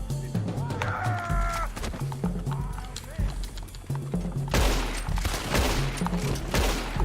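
A rapid volley of gunshots in Red Dead Redemption 2 Online, crackling over a busy game soundscape with hoofbeats and voices, the firing growing denser and louder toward the end.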